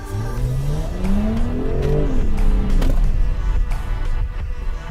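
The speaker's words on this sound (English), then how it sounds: "That is the active exhaust. So by flicking it on, putting the gearbox into sport, and putting the hammer down" A Jaguar F-Type with active exhaust open and gearbox in sport mode revs up loudly, the engine note sweeping upward through a gear change before breaking into a rougher crackling roar, close and prominent.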